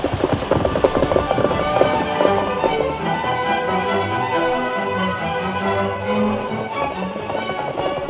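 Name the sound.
horse galloping, radio drama effect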